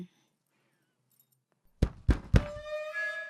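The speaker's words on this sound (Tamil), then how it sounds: "உள்ள இருக்கிறது தெரியாம கதவை சாத்திட்டம்மா" A door is shut with a few heavy thunks in quick succession after near silence, followed by a lingering ringing resonance, close and fairly loud.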